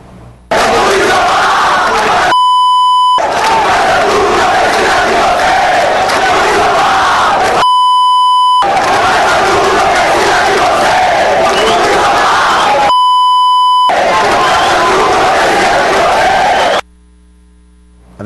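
Loud, dense roar of Paysandu football supporters protesting against the club board at the Curuzu stadium, massed chanting and shouting in three long bursts separated by brief gaps of hum, with a steady mains hum underneath.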